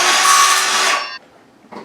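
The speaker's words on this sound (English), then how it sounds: "Handy dandy DeWalt saw. I cut it long." A DeWalt power saw cuts through wood for a rustic bar top, a loud, close whine lasting about a second before it stops abruptly and a short knock follows.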